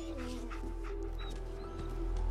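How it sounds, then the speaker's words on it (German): A dog in the Fallout 4 video game gives soft whimpering yips over a steady low game ambience, close and moderately loud, with no talk. "Ich hab einen Hund."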